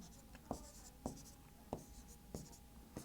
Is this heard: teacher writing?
yes